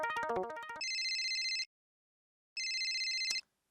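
A telephone rings in two electronic bursts separated by a short silence. A brief clash of tonal sound comes just before the first ring.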